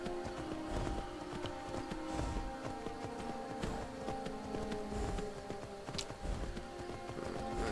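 Horse hooves in the Skyrim video game, a steady soft clopping of walking footsteps over a continuous droning background with no talk over it.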